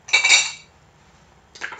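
Metal spoons clinking while cosmetic powder ingredients such as yellow Provence ochre are measured for coral lipstick, a bright clatter followed by a short second clink after a pause.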